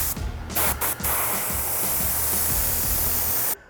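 Steady close hiss of an airbrush spraying paint at an angle through a stencil, a continuous broadband rush lasting several seconds before cutting off abruptly, with faint ticks at the start.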